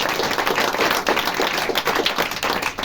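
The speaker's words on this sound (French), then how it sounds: "on va l'applaudir" An audience applauds at a theatre performance about Sand and Chopin, with steady, fairly loud clapping throughout and no voices.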